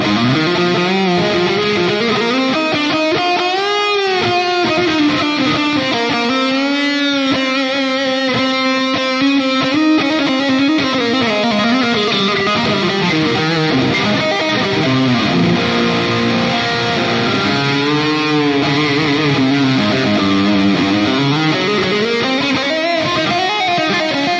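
Heavily distorted metal electric guitar played through the ML Sound Lab Amped Burger amp plugin, a loud, continuous stream of sustained, saturated notes and sliding riffs with no gaps.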